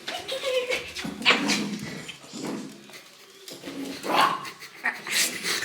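A dog barks, yips and whimpers in agitated, uneven bursts at close range, with a voice briefly mixed in.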